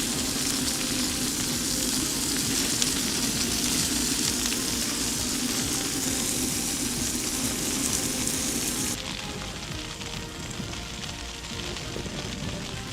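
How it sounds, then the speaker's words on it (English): Food sizzles and spits loudly in a pan on an MSR WindBurner camping stove at a wild campsite, a dense, steady frying hiss close by that eases slightly toward the end, with no talking. "Got the MSR wind burner going, pan on, cooking"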